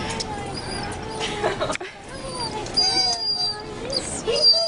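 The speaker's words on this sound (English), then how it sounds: "Is that dog crying?" A dog reunited with its owner whimpers and cries in high, wavering whines, close and fairly soft, with brief breaks and some background voices.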